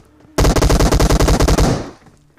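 An enemy on a rooftop in a video game fires one loud, close burst of rapid automatic gunfire lasting under two seconds, with a brief fading tail after it.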